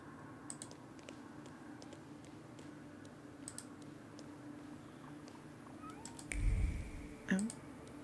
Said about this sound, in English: I heard the meow again.